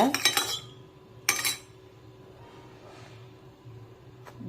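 A metal spoon stirring almond gum into a cup of hot water clinks sharply against the rim in two quick bursts, then softer faint rattles and a last small clink, close by with no talking.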